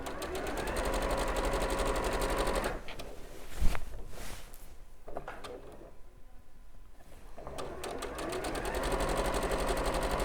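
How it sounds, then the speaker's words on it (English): Domestic sewing machine stitching layers of a quilt, a fast close mechanical whir that runs steadily, pauses briefly in the middle with some handling bumps, then starts up again. "It's a while since I've sewed standing up again."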